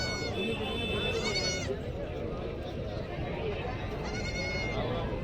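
Goats bleating at a busy village goat market: several wavering bleats in a row, then another a few seconds later, close and clear over a constant crowd murmur and bustle, with people talking throughout.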